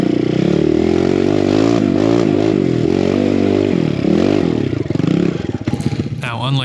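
A BBR KLX170RF dirt bike fitted with a D3 aftermarket exhaust rumbles loud and close, its revs rising and falling in waves before a few sharper blips near the end, with voices mixed in.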